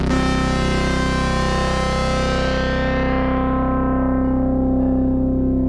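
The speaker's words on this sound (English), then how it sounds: "That rich rolling sound, it's classic. You can't pin that sound on anything but on Minimoog Model D." A Minimoog Model D synthesizer with two oscillators layered holds one steady low note in a thick, buzzy drone, rich and sustained, its bright upper edge slowly darkening as a filter closes.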